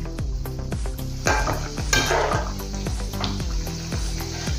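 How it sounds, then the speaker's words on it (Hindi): Kofta pieces frying in hot oil in a pan over a medium gas flame, a steady dense sizzle with stirring and flipping scrapes and splashes, close and fairly loud without talk. "गैस मीडियम करके इसको तलना है"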